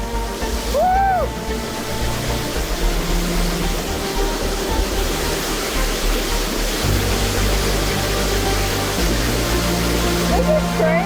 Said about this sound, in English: I haven't been this close to a waterfall before.